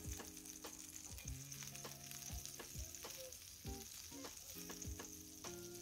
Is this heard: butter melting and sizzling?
yes